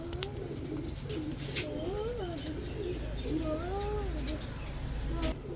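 Large Gopalganj pigeons, a male and female pair, give soft repeated coos at close range over a steady low background hum, with a few faint chirps mixed in.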